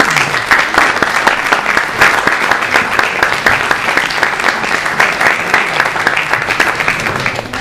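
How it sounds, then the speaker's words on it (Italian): A large audience at a public presentation in Pescara applauds loudly and steadily, dense continuous clapping filling the room throughout with no speech over it. "Adesso accogliamo qui con un grande applauso"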